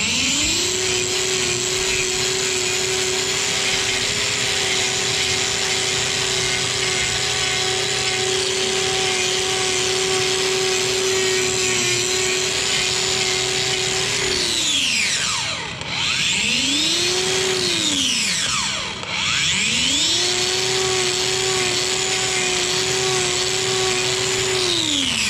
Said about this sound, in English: remove some of this loose horn with the grinder